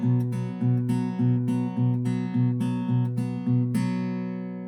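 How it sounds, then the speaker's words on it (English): Acoustic guitar fingerpicking a song's pattern, thumb alternating on bass strings with paired treble notes, a steady even rhythm of ringing chord tones played close and clear without any talking. "The picking pattern he does sounds like this."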